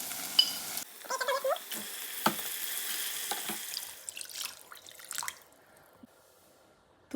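Onion-garlic masala sizzles in a pan with grated coconut as a traditional green moong amti is made, with scraping stirs and drips across the middle before the frying fades to near silence at the end.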